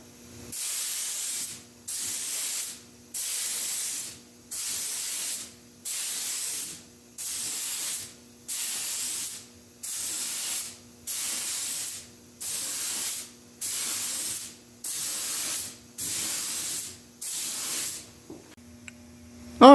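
Smoked tint aerosol hisses onto a car headlight in about twelve evenly spaced bursts, each roughly a second long with short pauses between, loud and close, with no talking.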